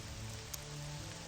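Steady rainfall in the video game Morrowind, a soft continuous hiss of drops on surfaces with a low rumble underneath, constant and close throughout.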